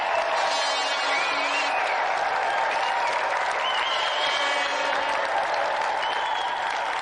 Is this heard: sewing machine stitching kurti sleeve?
no